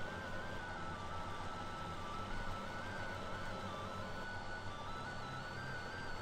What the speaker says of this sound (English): The tractor's really loud.